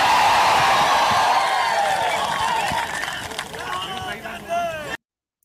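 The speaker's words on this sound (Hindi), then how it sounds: "और जब ये तालियां बज रही हैं, नारेबाजी हो रही है" Crowd at a Congress party rally in Assam clapping and chanting slogans, a dense, loud roar of applause and voices filling the whole clip before cutting off abruptly.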